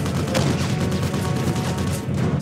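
Steady gunfire from a weapon in the Terminator Salvation video game, a dense rattling burst that runs loud and unbroken through the whole stretch.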